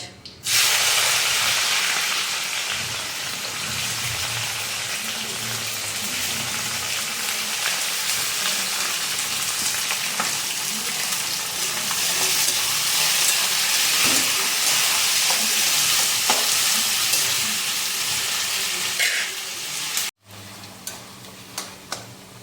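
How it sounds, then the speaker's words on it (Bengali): Onions and dried chillies fry in hot oil with a steady, loud sizzling hiss that carries on unbroken for about twenty seconds and then cuts off abruptly, leaving a few faint clicks. "পেঁয়াজটা ফ্রাই হয়ে গেছে"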